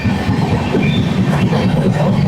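Loud, close, steady rumble of a passenger train on a long Kolkata to Bangalore journey via Chennai, with rattling wheels on the rails throughout.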